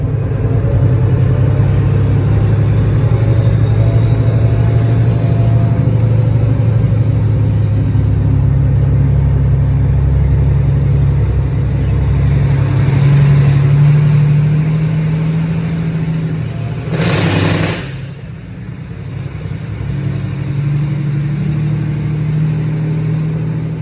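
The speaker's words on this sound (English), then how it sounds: "Kid in me just had to hit the Jake brake going through the tunnel." A truck's Jake brake engine braking inside a tunnel, a loud continuous low rumbling drone that swells and echoes for many seconds, with a brief broadband burst near the end.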